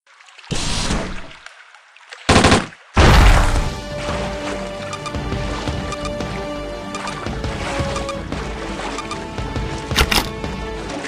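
Shotgun blasts in the mobile raft game Raft n Roll: three loud, sharp bursts in quick succession early on, then a steady bed of busy game noise with another small crack near the end.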